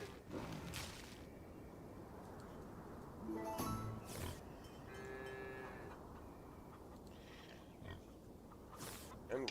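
Pig grunts from the farming video game Farm Together 2, short in-game animal sounds scattered over a steady background of game music and ambience, moderately loud.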